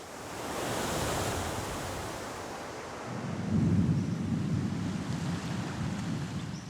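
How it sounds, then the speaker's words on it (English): Stormy surf pounds an island shore as wind roars across the microphone, a loud, continuous wash of waves that swells heavier partway through, with no voices. "As yet another storm hits the island"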